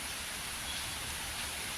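Steady morning rain falls in an even, continuous hiss, moderately loud and unbroken, with no voices over it.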